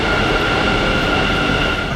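A Bengaluru metro train bound for Baiyappanahalli pulling into platform 1: a loud, continuous rumble of wheels and carriages filling the station, steady throughout, with no talking.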